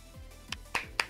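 A small hand clap, heard as three soft, quick slaps spaced evenly apart, faint and close, with nothing else going on.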